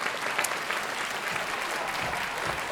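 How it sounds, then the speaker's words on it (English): An audience at an MS wellness summit claps steadily for its sponsors, a dense, even patter of many hands that holds without pause throughout. "we should give them all a round of applause for everything that they did"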